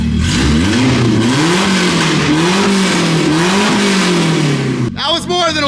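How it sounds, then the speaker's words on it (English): A Nissan 240SX engine revs hard up close, its loud throaty note rising and falling in several waves before dropping abruptly, followed by a brief burst of other sound. "Give her a little rev."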